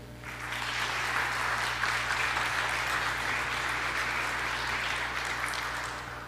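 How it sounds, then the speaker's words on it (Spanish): An audience at a national congress of innovative programs gives steady, sustained applause welcoming panel speakers onto the stage, a dense wash of clapping that swells in and fades near the end. "Los recibimos en el escenario con un fuerte aplauso."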